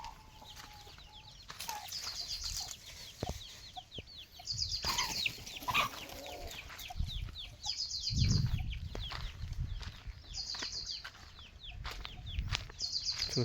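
Chickens cluck in a village farmyard with a mix of close and more distant calls. Fluttering and rustling mingle with the repeated squawks over a busy outdoor background.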